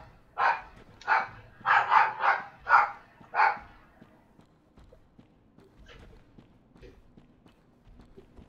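A small dog barks six times in a quick, loud run within a Dark Souls game, followed by faint footsteps and quiet ambient game noise.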